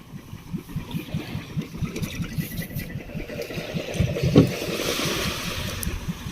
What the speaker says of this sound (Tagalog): Buhay pa ang makina, ipatay ng kuya.